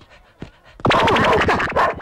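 A dog chasing someone pants rapidly, then breaks into loud, close bursts of barking and panting that fill the latter part.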